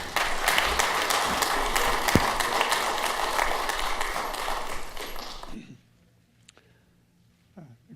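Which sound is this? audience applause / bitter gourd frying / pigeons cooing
audience applause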